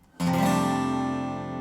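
A guitar power chord in DADGAD tuning strummed once, the top three open strings ringing out full and sustained, slowly fading.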